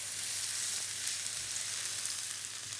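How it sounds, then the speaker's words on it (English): Spring onions and garlic frying in a pan give a steady, even sizzle that stays constant from start to finish, with no voices over it. "give the spring onions a bit of a head start and then in with our garlic after that"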